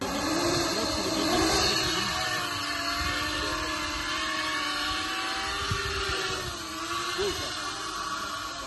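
A steady high-pitched whirring buzz of small seven-inch kamikaze drones flying overhead, holding fairly constant with slight shifts in pitch as they maneuver.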